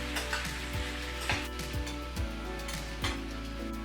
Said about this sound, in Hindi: अनियन को अब हमें पकने देना है